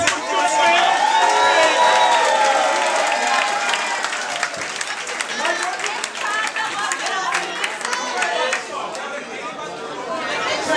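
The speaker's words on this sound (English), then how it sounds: "clap your motherfucking hands if you're doing something" A crowd at a mixtape listening event claps and cheers loudly, with whoops and a sustained roar that gradually settles into scattered clapping and chatter.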